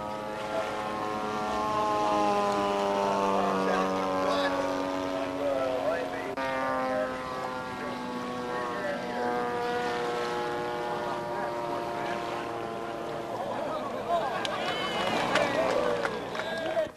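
A scratch-built GB-R1 RC floatplane with a 90-inch wingspan, powered by a 3.7 Zenoa engine, drones steadily throughout with shifting pitch as it flies, while a voice talks over it.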